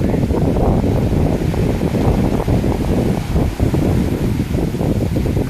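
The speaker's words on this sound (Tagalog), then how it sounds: "malakas yung alon, gawa ng yun na, may low pressure." Strong sea waves churn off Isla de Cobos in Catanduanes, Philippines, under gusty low-pressure wind, a loud, unbroken roar of surf and wind buffeting the microphone throughout with no pauses.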